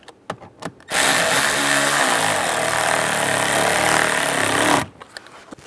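A power tool drives screws on a 2007-2013 Chevy Silverado cabin air filter cover, running in one loud, continuous whine for about four seconds, bracketed by a few sharp clicks and handling noises before and after.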